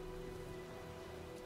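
Steady rain pours during a storm in the video game Heavy Rain, a constant hiss of falling water with faint tonal background music underneath throughout.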